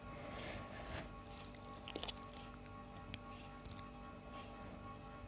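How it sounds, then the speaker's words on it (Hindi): Hands mashing rice flour with chopped onion greens, soft squishing and kneading sounds close up, with faint sticky clicks and pats in an otherwise quiet kitchen. "अब इन दोनों चीज़ों को हाथों की मदद से मसल के प्याज के पत्तों को थोड़ा सा नरम कर लूँगी"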